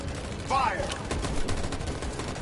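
A burst of gunfire during a battle scene in the video game Detroit: Become Human, several rapid shots close by amid steady combat noise, with a brief whooshing sweep near the start.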